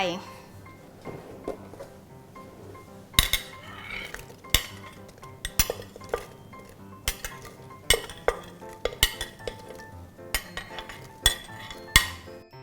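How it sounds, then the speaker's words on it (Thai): Prepared fruit is tossed and lightly pounded in a mortar for a fruit papaya salad, giving repeated sharp clinks and knocks at an uneven rhythm, close up, with someone speaking between them. "จากนั้นนะคะเราก็จะนำผลไม้ที่เราเตรียมเอาไว้ค่ะใส่ลงไป"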